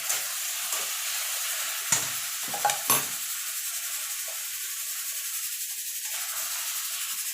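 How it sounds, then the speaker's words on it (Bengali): A spoon stirs cooked taro leaves with lemon juice in a pan, a few soft scrapes and knocks over a quiet continuous hiss of simmering, close and fairly faint, no talk. "এবার আমি নাড়িয়ে দেবো।"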